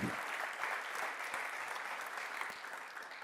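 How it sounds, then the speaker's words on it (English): Steady, full applause from a festival audience at a football writing talk, dense clapping sustained throughout, with a faint voice barely audible under it. "Big round of applause."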